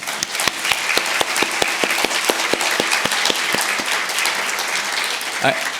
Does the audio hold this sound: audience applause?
yes